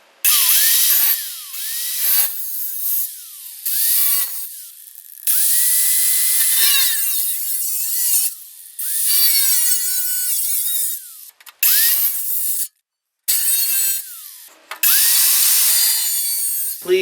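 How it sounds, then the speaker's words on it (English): Cutoff wheel slicing through a plastic fender flare or bumper tab during a Bushwacker flare install on a 1999-2004 Jeep Grand Cherokee, a close, loud grinding whine in repeated bursts broken by short pauses. "Please use a lot of safety with this cutoff wheel."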